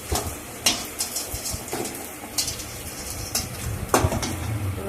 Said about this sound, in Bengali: এবার বড়াগুলো আমার সব ভাজা হয়ে গেছে, সব তুলে দেব। এই একটা একটা করে সব তুলে দিচ্ছি।